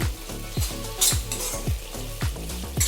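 Mutton liver fry is stirred in a frying pan with peppercorn powder and coriander leaves, giving a steady sizzle and a regular rhythm of spatula scrapes, about two per second, close up.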